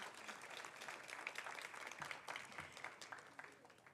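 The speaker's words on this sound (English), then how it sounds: "Please join me as we applaud one last time their generous gifts of time and talents to Town and Gown of USC" An audience at a Town and Gown of USC gathering gives sustained applause, a steady wash of clapping heard at a moderate distance, fairly soft, holding for several seconds before easing slightly.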